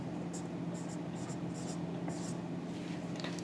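A pen writing numbers on paper, light scratchy strokes in short bursts, close and faint, over a low steady background hum.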